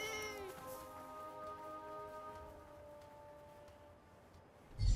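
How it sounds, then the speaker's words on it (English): A cat meows in a video game, a single drawn-out harmonic call at moderate loudness over steady game ambience, fading out before a louder thump at the end. "A cat."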